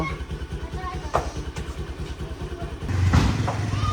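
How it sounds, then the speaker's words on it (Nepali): A small scooter engine putters steadily in a fast rhythm, revving slightly louder near the end, with a voice speaking over it, in Pokhara, Nepal. "ल मेरो बुढी चाहिँ स्कुटर चलाउँदै म पछि बस्ने हो"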